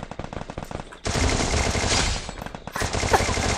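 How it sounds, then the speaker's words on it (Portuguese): Rapid automatic gunfire in a video game bursts out in fast, loud volleys, with a brief lull before another stretch of close, continuous shooting. "Peraí, você tá atirar dentro de casa?"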